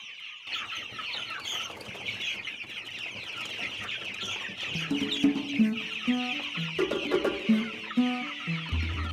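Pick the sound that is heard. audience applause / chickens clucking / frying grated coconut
chickens clucking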